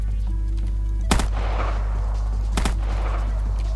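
Two loud, sharp gunshot bursts ring out about a second and a half apart in the Minecraft video game over a steady low game hum, with no talking.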